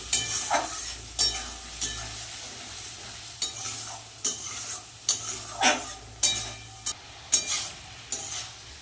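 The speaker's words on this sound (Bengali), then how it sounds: "মশলাটা ভালো করে আলুর সাথে কষিয়ে নেব" Spiced potatoes frying and being stirred in a pan, with repeated scraping strokes of a spoon against the pan over a steady sizzle, close and fairly quiet, and no speech.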